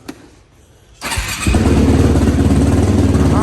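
The engine of a Yamaha YFZ450 ATV cranks briefly, then catches and fires up into a loud, steady, close rumbling run.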